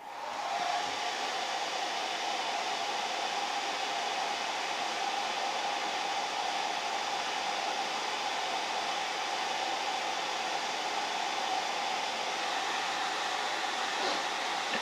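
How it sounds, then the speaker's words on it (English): A hair dryer blows steadily at close range, warming parts of a KJ Glock 19 pistol, a constant whooshing hum with no breaks for the whole stretch. "So let's warm them up with the hair dryer."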